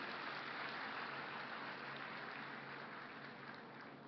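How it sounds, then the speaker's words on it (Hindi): An audience at a training event for newly appointed teachers in Bhopal claps steadily to welcome the governor, a dense even wash of applause that fades slightly toward the end. "तो गवर्नर साहब का भी ताली बजा के स्वागत करें"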